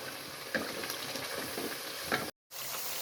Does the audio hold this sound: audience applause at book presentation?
no